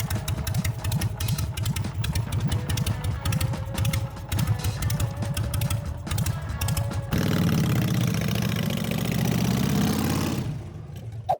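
A Harley-Davidson Sportster bobber engine idles steadily after carburetor tuning, a loud, close, lumpy mechanical chug that shifts to a deeper, rougher rumble partway through before cutting out near the end.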